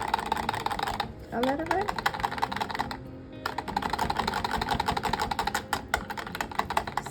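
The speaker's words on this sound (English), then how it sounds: "we're just gonna add it and whisk it" A whisk beats watermelon-scented soap batter with rapid, even clicking strokes, close and busy, with a short pause partway and a few quiet spoken words.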